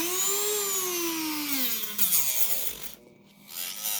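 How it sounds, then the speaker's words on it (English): A Dremel rotary tool running on low speed smooths the midsole sides of a Nike Air Yeezy 1 sneaker, its whine gliding downward in pitch and wavering as it rubs the sole, close up, then briefly cutting off near the end. "I'm going to be using the same Dremel head."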